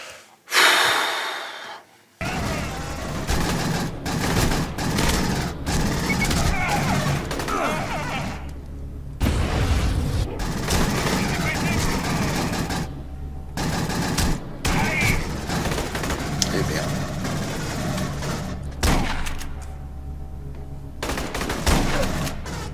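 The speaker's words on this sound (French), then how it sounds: "Je suis protégé derrière un truc, on me tire." Gunfire in the sci-fi shooter game Aliens: Colonial Marines, a dense, continuous barrage of shots and explosions with breaks, running loud for most of the stretch behind game sound and breathing.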